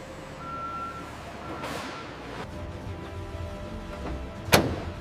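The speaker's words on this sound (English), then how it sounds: "Forklifts carry large pallets toward waiting Coca-Cola delivery trucks." Forklifts and delivery trucks move around a Coca-Cola bottling factory, with a steady reversing beep repeating over a low engine rumble. A sharp bang is heard near the end.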